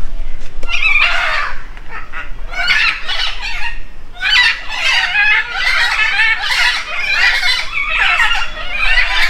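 Birds squabbling at Alipore Zoo, a loud, close run of harsh clucking and crowing calls in repeated bursts over a quiet background.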